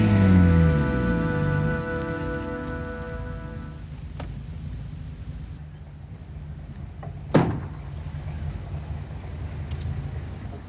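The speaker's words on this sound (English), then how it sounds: "We're just going to sit there and let it rain on you." Rain falls steadily as a soft, continuous hiss outdoors, while a car engine hums briefly at the start and fades. A single sharp knock stands out midway through.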